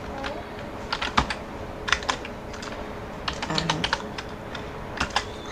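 Someone types HTML list tags on a computer keyboard in a close, fairly quiet run of key clicks and taps, with pauses between bursts and a brief spoken word.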